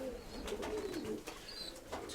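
Pigeons in a loft, including a large steel-grey bird paired with a white one, give a low, soft, continuous cooing close by, with faint chirps above it.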